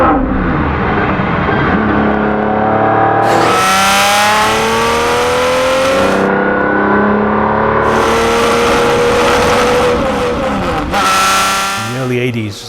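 A 1991 Jaguar XJR-15 engine roars loudly up close, climbing through revs and then blipping through downshifts with rising and falling pitch, a continuous, powerful mechanical howl.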